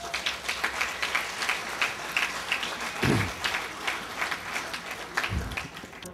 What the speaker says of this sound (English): I think just that alone needs a round of applause